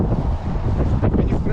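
Strong gusts on a windy day at an RC plane flying field buffet the microphone with a loud, continuous low rumble, with a voice partly buried beneath it.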